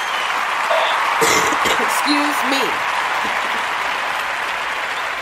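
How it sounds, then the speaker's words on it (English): Audience applause for Soul Scribe the Poet at a live stage show, a steady sustained clapping that fills the room throughout, with a voice briefly speaking over it partway through. "Let's just give her another round of applause for coming on the Sister Speak Show this evening."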